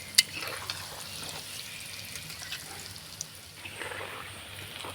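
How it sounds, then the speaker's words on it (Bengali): Ripe palm fritters fry in hot oil, a steady soft sizzle with faint crackling and a few sharp pops, heard alone with no voices. "মিডিয়াম আছে ভেজে নিতে হবে।"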